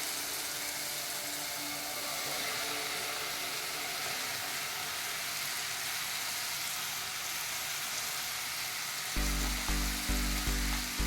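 Chopped bottle gourd sizzles and fries steadily in a hot pan for a long stretch, then a few louder clattering stirs or scrapes come near the end.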